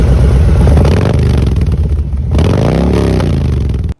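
A motorcycle fitted with Vance & Hines Eliminator 300 slip-on exhausts rumbles loud and close, dips briefly, then revs up again before cutting off abruptly.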